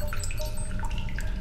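Fresh water drips underground in The Solus Project video game. Small watery plinks fall irregularly over a steady low background hum, close and continuous, with no talk.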